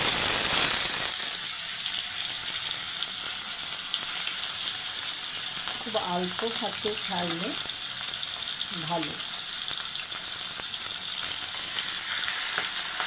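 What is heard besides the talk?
fish heads frying in oil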